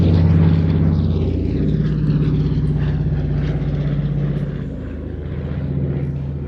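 A Catalina flying boat drones past at an airshow, its propeller engines giving a loud, steady low hum that slowly shifts in pitch as it passes, with no voices.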